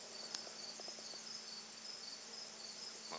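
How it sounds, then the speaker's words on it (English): A big cicada on a hike in Griffith, Indiana, gives a steady, continuous high buzz that stays even and fairly faint throughout, with no voices. "I got a big, nasty cicada over here."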